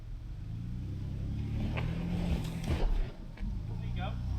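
A Jeep's engine rumbles and revs as it drives through a wet creek crossing, a loud low drone under a man's speech with water splashing at times.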